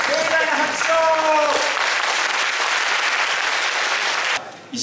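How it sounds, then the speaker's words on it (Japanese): A large audience applauds loudly and steadily at the Egao Koshien final battle in Niihama, with an announcer's voice over the opening moments and the clapping cutting off abruptly near the end. "どうも皆様、盛大な拍手を。"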